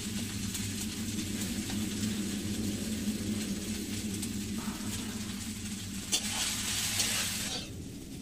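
Chowmein fries in oil in a kadai with a steady, faint, continuous sizzle, briefly joined by a soft clatter near the end.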